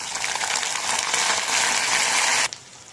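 Sliced onion hits hot oil that already holds tempering seeds, giving a dense, bright sizzle up close. The frying hiss runs for about two and a half seconds before dropping away sharply.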